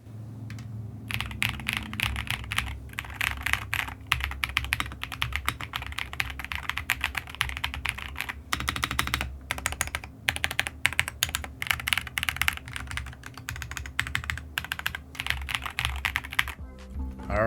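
Steady close typing on a Redragon UCAL Max gasket-mounted mechanical keyboard, rapid clacky keystrokes with a few brief pauses, heard alone.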